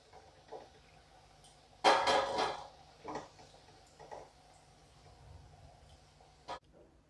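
Fried plantain koftas are lifted out of a wok, with a clattering scrape of the utensil against the pan, followed by a few lighter knocks and clicks over a low kitchen hum.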